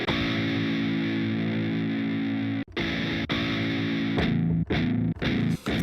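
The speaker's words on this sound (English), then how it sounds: "it's drop A, it's a very low-tuned guitar sound" A heavily distorted electric guitar in low drop A tuning rings out a sustained chord, then breaks into choppy, palm-muted chugs with brief gaps.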